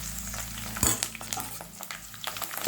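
Curry leaves and chillies fry in hot oil for a grated raw mango chutney, a quiet, steady sizzle broken by a sharp utensil clink and light stirring, with no talk.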